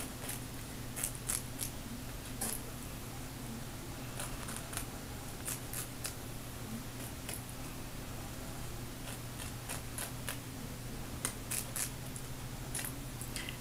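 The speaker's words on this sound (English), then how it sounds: "Now this is trimming your applique parts of the fan." Scissors trim fabric appliqué fan blade pieces: quiet, irregular snips and clicks come in small clusters over a low, constant room hum.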